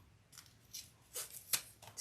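Scissors snip through zipper tape while trimming a corner on a crossbody bag, a few quiet, crisp cuts spaced irregularly with a sharper snip near the end, close and alone.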